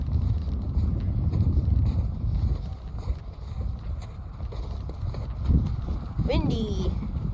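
Wind gusting on a snowy Colorado mountain hike, a broad low rumble buffeting the microphone, with crunching footsteps and a brief voice near the end.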